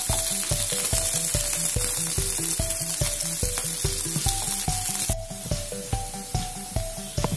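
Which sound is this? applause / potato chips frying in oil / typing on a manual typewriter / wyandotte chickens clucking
potato chips frying in oil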